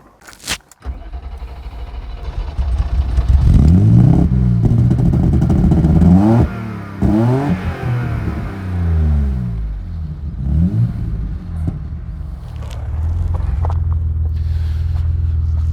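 A car engine cranks and catches, then revs up and down several times with a deep exhaust rumble before settling into a steady idle.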